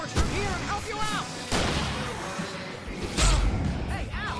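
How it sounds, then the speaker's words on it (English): Fireworks go off in the Alan Wake video game amid combat: sharp, booming bursts with crackling tails arrive every second or so, loud and close, over a noisy, busy background with shrill whistling streaks. "I can set off more of the fireworks from here and help you out"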